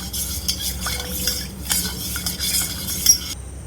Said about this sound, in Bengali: দেখো এই দুটো ভালো করে মিশিয়ে নেব।